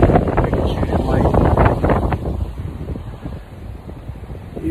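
Heavy wind buffeting the microphone in loud rumbling gusts, strongest at the start and easing slightly later, with a faint voice underneath.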